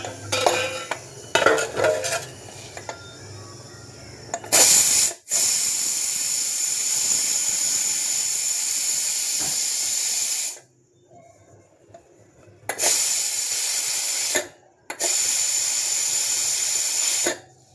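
A pressure cooker is opened after a few metal clinks, releasing loud, sustained steam hisses in three long bursts separated by short quiet gaps.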